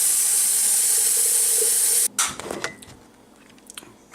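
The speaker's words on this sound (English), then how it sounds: "not freezing water pouring into this thing" Cold tap water pours into a container as a loud, steady hiss for two seconds, then cuts off abruptly, leaving faint drips and clinks.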